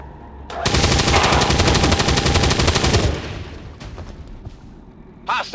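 A Grenadier fires in XCOM 2: a loud sustained burst of rapid automatic gunfire for about two and a half seconds, then tapering echoes and a sharp final crack.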